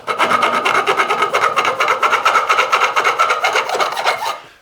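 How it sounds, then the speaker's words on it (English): Metal file rasping along the edges of guitar frets on a Revstar guitar build, a steady loud run of rhythmic back-and-forth strokes with a slight pitch shift, stopping abruptly near the end. "just gonna file down the edges."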